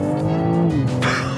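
Tuned BMW M3 accelerating from a low road speed, a loud close engine drone with a rising pitch that shifts abruptly, joined by a brief harsh tire squeal near the end.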